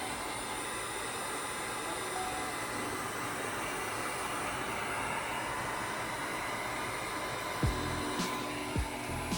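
Heat gun warming a vinyl front intake overlay on a vehicle, a constant close blowing whoosh running throughout, with a few faint knocks near the end.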